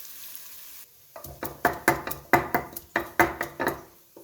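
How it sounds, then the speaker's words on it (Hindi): Whole garam masala is dropped into a pan of frying onions for bhuni moong dal, then stirred with a run of sharp, evenly spaced knocks and scrapes over a soft sizzle. "ये हम इसमें ऐड करेंगे और इसको भी हम प्याज के साथ फ्राई करेंगे"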